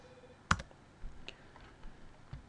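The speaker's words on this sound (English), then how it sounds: "I'll click on the label column on the first MRT and start typing loop" A computer mouse clicks sharply once, loud and close, followed by a few softer clicks spread across a quiet room while editing a program in QuickControl software.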